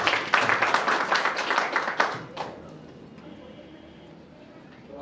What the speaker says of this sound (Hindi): अनिल गोयल जी के लिए जोरदार तालियां मिले